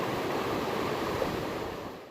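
Storm-swollen river rushing at a crossing on the Pacific Crest Trail: a steady, dense roar of churning water, close and unbroken throughout.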